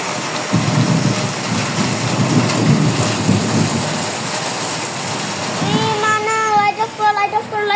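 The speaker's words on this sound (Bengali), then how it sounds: "চারিদিক খালি বৃষ্টি আর ঝড়।" Heavy rain and a storm roar outside in a dense, steady wash of noise that runs throughout. Near the end, a voice rises briefly over the downpour.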